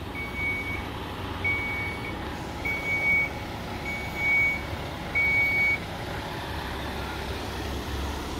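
A Segway P100S electric scooter gives a series of short, evenly spaced electronic beeps, about five, over a low steady hum of background noise.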